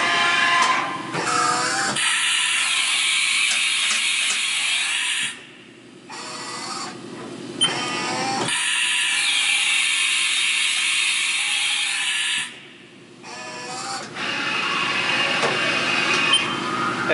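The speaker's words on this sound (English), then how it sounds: "This will be a couple of tool changes that we're going to do." A Haas VF2 vertical machining center with its spindle running at 3000 RPM performs a couple of tool changes, giving steady mechanical whirring and hiss broken by short gaps and clunks of the changer cycling, loud and close with no talk.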